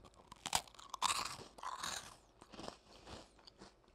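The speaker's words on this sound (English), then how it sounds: "Very, very crunchy snack." Loud, close crunching as a crisp Japanese snack is bitten and chewed, irregular crackly bursts repeating over a few seconds with no talking.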